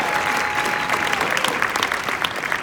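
Audience giving a round of applause at a talk, steady dense clapping from a sizable crowd throughout, close and continuous with a faint tone underneath.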